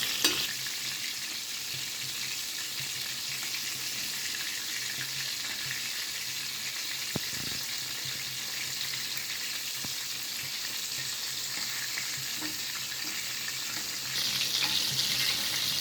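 Chicken strips frying in hot oil, a dense, loud, steady crackling sizzle that runs throughout, with a couple of faint clinks and the sizzle briefly swelling near the end.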